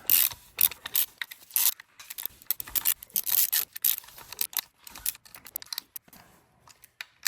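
Bolts are tightened on a 3D-printed rear main seal installer tool during a Porsche 911 engine assembly, producing rapid ratcheting clicks in quick bursts with brief pauses, close and fairly loud.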